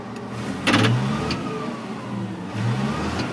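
A Caterpillar D10T dozer's diesel engine, heard from inside the cab, revs up briefly twice over a steady low rumble, with a short mechanical rattle between the rises.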